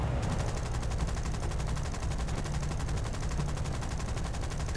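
Bomber gunners in War Thunder fire 7.7 mm machine guns at long range, a dense unbroken rattle of rapid gunfire throughout at steady loudness over engine drone, no voices.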